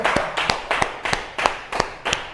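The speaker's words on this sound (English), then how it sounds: "Let's just clap for his shoes" Seven sharp, evenly spaced hand claps ring out one after another in a steady rhythm, close and fairly loud, with no talking between them.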